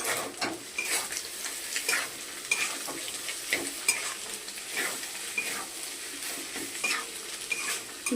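Egg stir-fried with salt and turmeric in a pan for chicken egg chow mein, with a soft steady sizzle under repeated sharp scrapes and taps of a spatula against the pan, close and fairly quiet, no talking.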